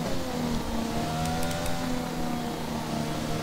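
A Formula 1 car engine in the F1 2020 racing game whines at high, steady revs, a sustained buzzing tone with slight pitch shifts, close and continuous, without any talk over it.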